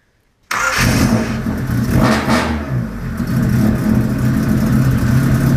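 A car engine kicks in abruptly and settles into a loud, steady running rumble with a brief rev, close by, no voices.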